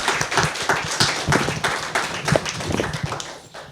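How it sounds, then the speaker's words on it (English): Audience clapping after a talk, a steady round of applause from a small crowd at close range, tapering off toward the end. "Can we have a big round of applause first,"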